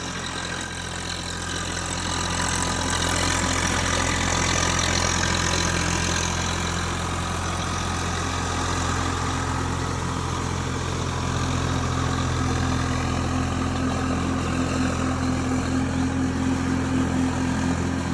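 A Swraj 744 FE 4WD tractor engine runs steadily at a low idle-like rumble, close and continuous with a faint knocking texture and no talking.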